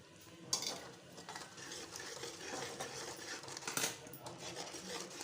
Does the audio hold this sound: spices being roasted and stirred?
yes